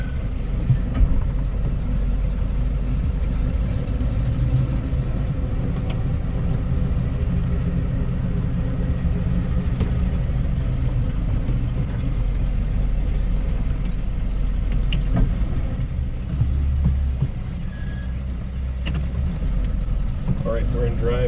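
Engine of a 1955 Pontiac Chieftain running steadily as it is shifted from reverse into low drive, a continuous low rumble that dips briefly near the end, with a voice speaking over it.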